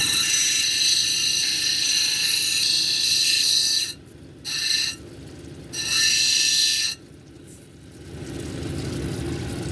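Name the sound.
grinding Summerville lace agate cabochon on 80 grit wheel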